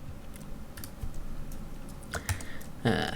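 Someone types on a computer keyboard while writing Swift 3 code for an iOS app, producing sparse, light key clicks at close range over a faint background hiss, ending in a brief louder burst of keystrokes.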